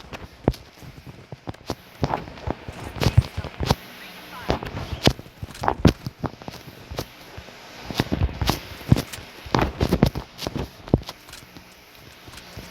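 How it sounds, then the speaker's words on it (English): Gunfire in the video game Bloodstrike, irregular bursts of sharp shots cracking at close to mid range, some in quick clusters with short pauses between, while a player talks over them. "Who's shooting at me?"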